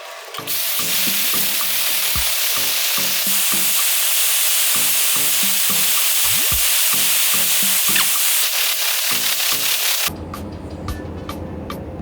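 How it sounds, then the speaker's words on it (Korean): A hair dryer blows steadily on freshly dyed hair in a salon, a loud, continuous broadband rush that runs for about ten seconds and then gives way to a quieter, altered hum near the end. "말려서 드라이 들어갈게요."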